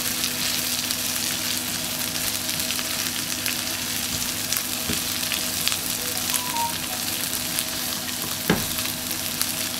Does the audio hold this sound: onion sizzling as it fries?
yes